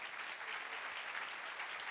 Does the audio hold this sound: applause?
yes